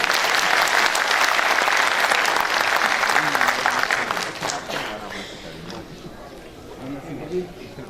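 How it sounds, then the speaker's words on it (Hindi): Audience applause at a talent award gathering, dense clapping loud for several seconds then fading, with a voice talking as it dies down. "कश्मीर वालों के लिए एक दफ़ा तालियां बजा दें।"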